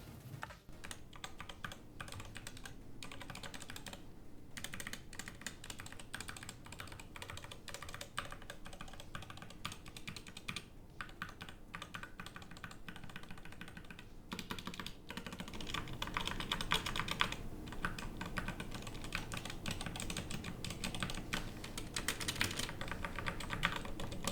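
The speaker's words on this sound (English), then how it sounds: "let's do a little bit of a sound test and see how those Gateron switches sound on this keyboard" Steady, continuous typing on an Endgame Gear KB65HE Hall Effect mechanical keyboard with Gateron switches, close up, with dense clacky keystrokes that grow a little louder and busier partway through; no talking.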